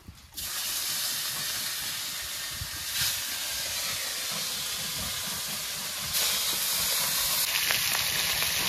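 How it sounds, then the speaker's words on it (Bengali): Rohu fish pieces fry in hot oil, a steady broadband sizzling hiss that starts abruptly and runs continuously at moderate level, growing slightly louder toward the end. "এবার বাকি মাছগুলো এভাবে ভেজে নেব।"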